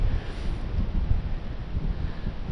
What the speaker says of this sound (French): il y a un peu de vent là